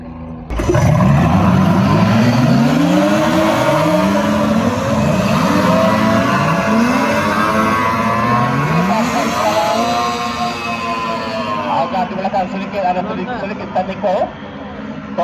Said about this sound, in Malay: 10 buah bot yang melepas dengan lancar